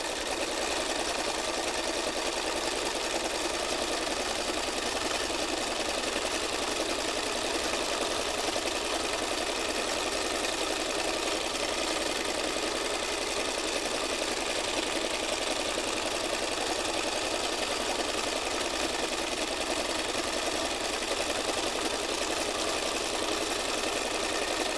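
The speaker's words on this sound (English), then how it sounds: "Okay, so I'm just going to keep stitching." A sewing machine stitches paper in a spiral, with a steady, continuous motor hum and needle rhythm running close by for a long stretch and no voices.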